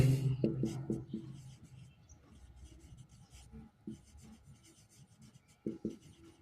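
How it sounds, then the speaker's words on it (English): A pen scratches across paper as notes are written during a British literary history class, producing soft, faint, irregular strokes. A short burst of low voice sounds at the start. "let's write here historical overview."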